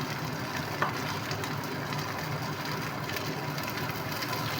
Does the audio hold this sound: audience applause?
no